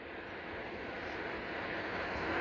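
A UMX Air Tractor RC model plane flies overhead, its small electric motor giving a steady, airy drone mixed with wind rush that holds constant and swells slightly toward the end.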